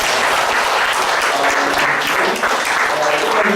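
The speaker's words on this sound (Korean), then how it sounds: "박수 한번 해주세요" A church congregation at a Sunday morning worship service claps steadily in dense, sustained applause that fills the room, with voices mixed in beneath the clapping.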